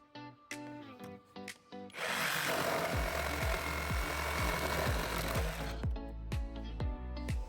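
A motor whirs briefly, then a Parkside Performance 20V cordless jigsaw with a wood blade roars steadily through wood for several seconds with a rapid rattling chop, before winding down.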